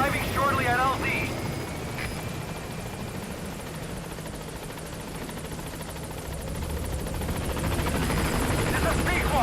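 A helicopter in Metal Gear Solid V: The Phantom Pain comes in to a landing zone, its rotor drone loud and steady throughout, swelling slightly toward the end.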